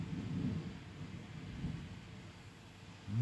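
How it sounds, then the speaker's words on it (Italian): Low rumbling thunder from a thunderstorm at home, a deep swell early on that fades and rises again at the end, with faint rain hiss underneath and no talking. "è il temporale a casa mia"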